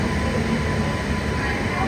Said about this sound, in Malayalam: 1-ാം നമ്പർ പ്ലാറ്റ്ഫോമിലേക്ക് ഇതാ Vijayawada MGR Chennai central Jan Shatabdi express കടന്നു വരികയാണ്